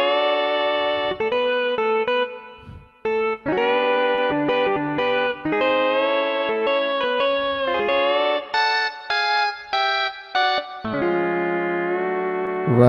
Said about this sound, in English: And the dobro, they use this weird thing called a slide on their finger, and it makes it sound like this.